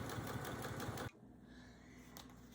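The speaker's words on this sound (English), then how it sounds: "I'm gonna go ahead and sew this" A sewing machine runs close up with a fast, steady rhythmic whir as it stitches quilt binding, then stops abruptly, leaving quiet room noise.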